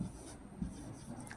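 Pen writing a poet's name on paper, a soft continuous scratching with small faint strokes close by, no voice over it.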